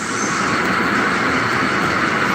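Model train engine with built-in sound, Protos, playing a loud, steady rumbling rail-car roar for a couple of seconds, close and without talk.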